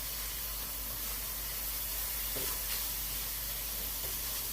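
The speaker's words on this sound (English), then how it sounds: "Put that Fool's Gold barbecue sauce in here like this. Cook that around a little bit." Fool's Gold plant-based barbecue sauce sizzles and hisses in a pan with spaghetti squash, a soft steady frying hiss close up with faint stirring, no voices.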